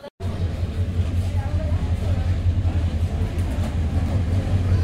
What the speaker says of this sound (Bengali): আসছে জয়ন্তিকা এক্সপ্রেস